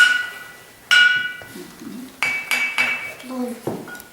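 Clay pots are struck one after another at a pottery craft session, each hit a bright ringing clink with a short decaying tone, several strikes spaced irregularly and fairly close, with faint talk in between.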